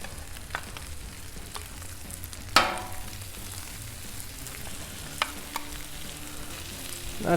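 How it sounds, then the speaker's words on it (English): Leftover green bean casserole frying on a Blackstone griddle, a soft continuous sizzle with occasional scraping clicks of a spatula, close and fairly quiet. "Throw down some of the green bean casserole."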